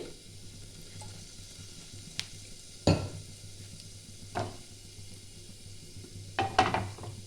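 Low background hiss of oil heating in a wok, broken by a few loud metallic clanks and scrapes of cookware.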